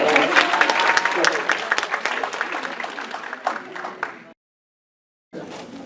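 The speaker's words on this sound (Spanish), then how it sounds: "Un aplauso para ellos." An audience at a church workshop and panel event applauds steadily for several seconds, and the clapping stops abruptly before a brief burst resumes at the end.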